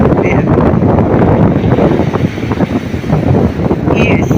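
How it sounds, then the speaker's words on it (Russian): Strong storm wind roars across the microphone at Sukko beach, with heavy surf rumbling underneath in a continuous, close, loud wash of noise. "ветер усилился очень сильно"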